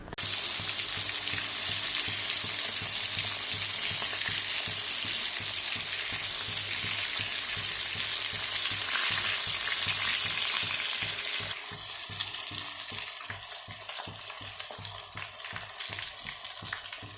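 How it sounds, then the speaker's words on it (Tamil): Rohu fish frying in a pan on a low flame, a constant dense sizzle with bubbling crackles that thins out toward the end, with no voices. "நீங்கள் சிம்மில் வச்சு வறுத்தா மட்டும்தான் உள்ளே நல்லா வெந்திருக்கும்"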